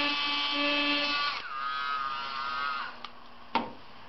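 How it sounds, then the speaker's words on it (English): A Dremel rotary tool fitted with a cutting blade whines close up at high speed while cutting plastic, then spins down to a lower steady drone, followed by a couple of sharp clicks. "I'm going to use my Dremel tool and a cutting blade on it."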